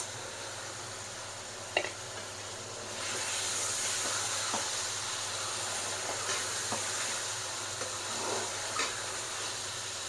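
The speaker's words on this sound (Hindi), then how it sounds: "अब इसमें गोश्त फ्राई करेंगे।" Chunks of beef frying in a pot with whole spices and whole chillies, a continuous bright sizzle that swells after a few seconds, with occasional light clinks of a spoon stirring.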